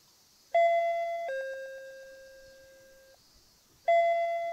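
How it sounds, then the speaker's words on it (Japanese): A video game doorbell chime is rung three times at a house's side entrance, clear two-tone electronic ding-dongs that ring out and decay, each press close and loud against a quiet background. "仕方なく何度かチャイムを鳴らした。"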